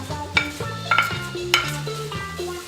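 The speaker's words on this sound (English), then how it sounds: "I'm adding to a bigger pan and I'm just going to let those simmer for a while." Onions, mushrooms, asparagus and spinach cooking in a pan, a steady soft sizzle with a few louder stirring scrapes and clinks close by.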